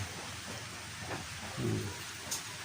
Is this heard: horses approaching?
no